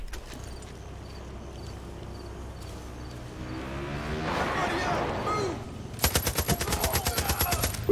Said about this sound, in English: They're shooting coming from up above.